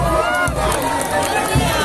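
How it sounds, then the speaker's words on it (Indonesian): Crowd at a seaside carnival parade in Makassar cheers and claps as a dense, steady roar of many voices and hand claps for a full two seconds. "Mari kita berikan tepuk tangan yang meriah"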